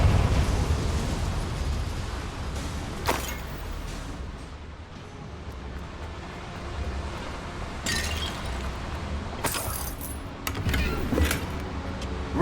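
The Confringo fire spell in Hogwarts Legacy goes off in sharp fiery bursts and pops over a rumbling ambient bed, with several crackling blasts near the end.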